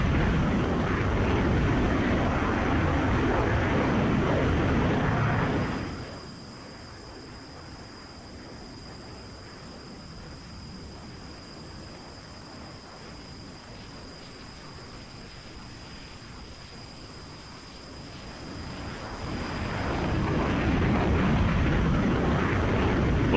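An F-16 jet engine in the Falcon BMS 4.38 flight simulator roars and rushes loudly, drops to a quieter whine with a high tone for a long stretch, then surges back up to full loudness.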